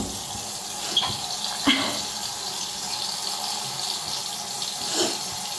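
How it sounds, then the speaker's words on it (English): A hot water tap runs into a sink with a continuous, moderately loud splashing hiss. A few sharp clinks and knocks break in near the start and again toward the end. "I've got to turn the hot water on so it actually gets hot."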